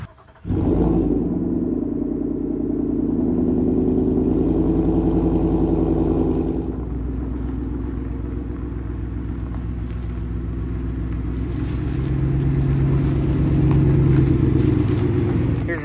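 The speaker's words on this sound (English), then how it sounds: "let's get this truck inside" A pickup truck engine rumbles steadily at close range, idling and pulling forward into a garage with a low, continuous drone that swells slightly near the end.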